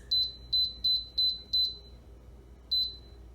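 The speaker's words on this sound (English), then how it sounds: "We're in the air fryer now, and what I'm going to do is I'm going to set this for 20 minutes" An air fryer beeps as its 20-minute timer is set for pork ribs: a string of short, clear electronic beeps, five in quick succession and then one more after a pause, close and alone.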